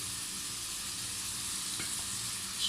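Chicken pieces browning in a hot pan for tandoori pasta, giving a steady close sizzle with a faint stir near the end.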